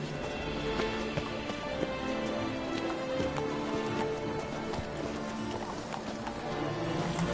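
Horse galloping in a PS4 video game, with rapid, even hoofbeats drumming close and loud over a rain-like background wash and a whinny.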